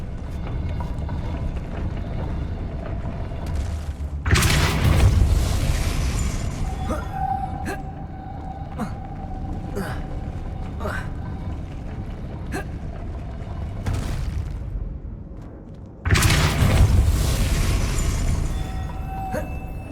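A Depulso force-push spell in the Hogwarts Legacy video game, heard as two loud whooshing magical blasts separated by quieter mechanical clicks and creaks, each burst broad and roaring.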